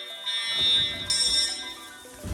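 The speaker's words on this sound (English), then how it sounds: "the fire alarms are going off" A building fire alarm sounds during a winter freeze in Austin, Texas, a steady high electronic tone with a second pulse entering partway through, at moderate level with faint background noise.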